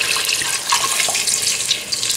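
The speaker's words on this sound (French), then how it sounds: "je vais mettre un demi-litre d'eau" Half a litre of water pours steadily into a cooking pot of browned meat, a loud, close, continuous splashing rush with no pauses.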